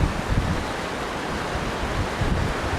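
Flash flood water rushing through Tyson Wash near Quartzsite, Arizona: a loud, continuous roaring wash of turbulent water with deep rumbling surges, steady and close throughout, with no talking.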